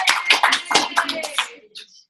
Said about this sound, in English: can I get a round of applause for Elena?